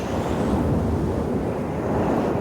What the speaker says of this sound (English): For winds blowing in gusts, for winds whistling in the branches